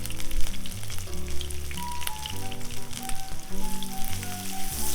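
Sliced onions frying in oil in a pan for a hilsa and green banana curry, a steady crackling sizzle with scraping stir strokes and clinks, close and fairly loud throughout.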